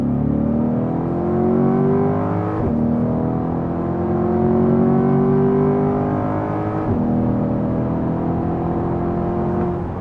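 A Corvette C8 Z51 and a turbocharged BMW M3 accelerate hard in a street race, a loud sustained engine roar rising steadily in pitch through two gear shifts with no talk over it.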